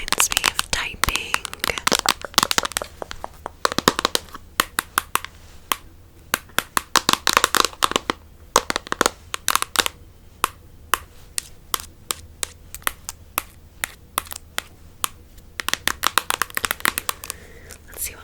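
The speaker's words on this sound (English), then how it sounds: "Phone tapping." Fingertips tapping on a phone screen in close, quiet ASMR style, giving crisp irregular clicks in bursts with brief pauses and soft background hiss.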